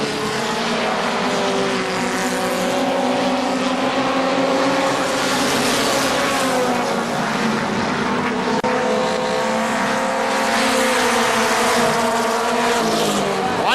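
Race cars roar around the KilKare Speedway oval, loud engines whining and rising and falling in pitch as they pass, a dense continuous drone of several cars close by.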